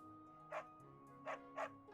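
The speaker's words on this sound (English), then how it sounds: "We can get barked at by the dog" A dog in the video game Fire Emblem Three Houses gives three short, quiet barks in quick succession over a soft steady musical background.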